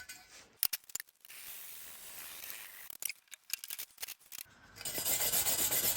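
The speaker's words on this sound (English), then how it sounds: "Hit it with a stainless steel brush to clean up any impurities that may be on it." A stainless steel wire brush scrubs welded metal parts in short, uneven bursts of harsh scratching strokes separated by pauses, ending in a longer continuous rasp, close and fairly quiet.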